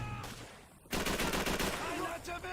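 Rapid bursts of automatic gunfire in the World War II shooter Call of Duty 3, dense and loud from about one second onward, with a quieter stretch of game sound beforehand.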